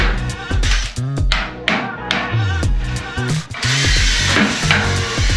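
A power drill whirs in loud, stop-start bursts, revving up and down while removing screws and pop rivets from a vintage caravan's metal chassis, with rattling and scraping between bursts.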